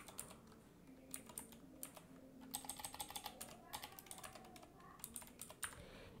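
Steady typing on a computer keyboard, a run of quick close keystrokes with short pauses between bursts over a quiet room background, no voices.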